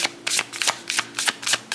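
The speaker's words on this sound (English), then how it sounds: "let's shuffle out your card here" Rapid, rhythmic riffles of a deck of cards being shuffled, bright papery bursts repeating close to the listener with no talking.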